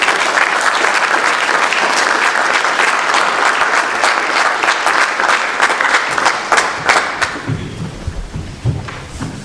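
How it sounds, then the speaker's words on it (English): Audience applause at a pitch contest event, a dense steady wash of clapping that thins into scattered claps near the end, with faint low voices underneath. "let's give a round of applause for Harry"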